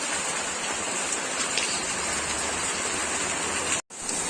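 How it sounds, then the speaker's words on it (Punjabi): Very heavy rain pours down in a dense, loud, unbroken hiss that fills the whole clip, cutting out for a brief moment near the end. "ਬਹੁਤ ਤੇਜ਼ ਬਰਸਾਤ ਪੈ ਰਹੀ ਹੈ"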